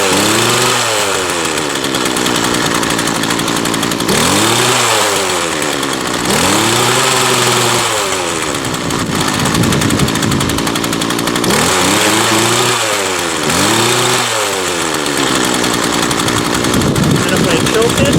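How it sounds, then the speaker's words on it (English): A Craftsman 19-inch 25cc gas hedge trimmer, fitted with a new carburetor, runs loud and close: the small two-stroke engine idles, then revs up repeatedly in rising and falling sweeps, with someone talking over it. "Oh, it fucking idles!"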